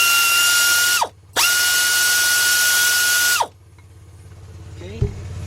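A ratchet wrench with an extension loosens the bottom water pump bolts on a Chrysler/Dodge/Jeep engine. It gives two loud, fast clicking runs close up with a short pause between them, then a quieter stretch with a faint clink.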